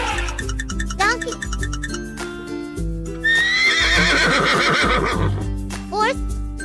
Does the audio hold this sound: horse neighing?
yes